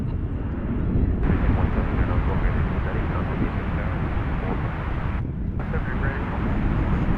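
An MD-80 airliner passes at DFW Airport with a loud, continuous engine roar and rumble that holds steady throughout.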